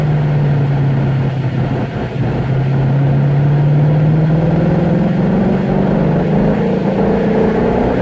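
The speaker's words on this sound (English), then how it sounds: "Open the throttle more than halfway and you can hear that adjustable exhaust system open up." A Ford Mustang Shelby GT350R on the Laguna Seca track runs with a deep exhaust drone, steady, its pitch climbing gradually as it accelerates under load and the adjustable exhaust opens.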